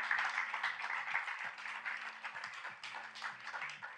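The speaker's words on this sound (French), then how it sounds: "on peut applaudir les équipes qui sont ici" Audience applause for the scikit-learn team at a launch event, a dense, steady patter of many hands clapping throughout, with faint scattered talk underneath.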